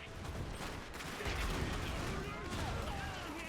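A field gun fires amid a sustained, dense barrage of battle noise in the strategy game Iron Harvest, with booming impacts and crackling gunfire filling the whole stretch.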